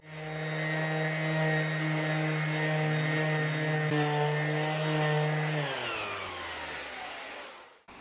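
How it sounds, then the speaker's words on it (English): A power sander fitted with 220-grit paper works over a flat guitar body. Its motor whines at a steady pitch for several seconds, then winds down toward the end, with no talking. "Let's run the sander over it."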